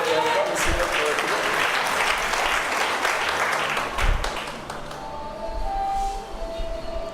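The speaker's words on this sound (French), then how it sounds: "Acclame le Seigneur correctement." A church congregation claps and cheers in praise, a loud mass of applause mixed with voices that fades toward the end, leaving a quieter tail with a few tonal sounds.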